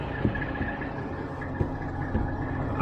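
A truck engine runs steadily at a low, even rumble throughout, with a few faint knocks and no talking.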